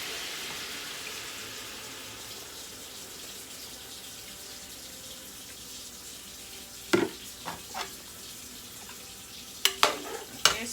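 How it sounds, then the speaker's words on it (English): Hot water pouring into a pot of Jamaican brown stew chicken, a soft steady wash with a few sharp clinks and splashes near the end, close by with no talking. "I'm just adding some hot water guys."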